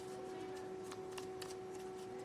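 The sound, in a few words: shuffling tarot cards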